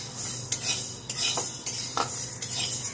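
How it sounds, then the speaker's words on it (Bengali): Sago pearls are dry-roasted in a pan and stirred with a metal utensil: a rhythmic scraping and clinking roughly twice a second over a soft rustle, close and clear, with no talk. "এবার সাবুটাও ভেজে নিচ্ছে এক বাটি"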